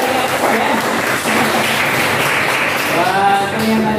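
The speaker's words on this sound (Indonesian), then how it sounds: "Tepuk tangan saudara." A class claps for a student who answered correctly during a lesson on structural beams and columns; dense, continuous clapping fills the whole stretch, with a voice speaking over it near the end.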